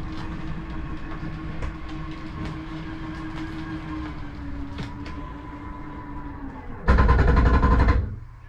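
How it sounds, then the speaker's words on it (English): A Mesa Ridge 2602RL RV slide-out mechanism runs with a steady mechanical whir, then gives a short loud burst of grinding noise as it stops at its limit, and goes quiet. "What that is the slide mechanism stopping itself from going any further."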